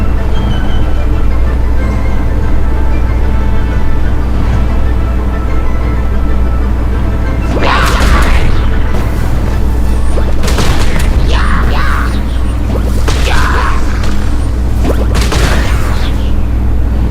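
Small bombs go off in Genshin Impact, a run of sharp bursts packed into the second half over a constant loud, rumbling game background.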